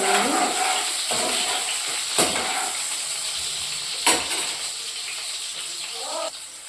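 Chopped onion frying in oil in a pan, giving a steady close hiss and sizzle with a couple of brief clinks of utensils, and no talking.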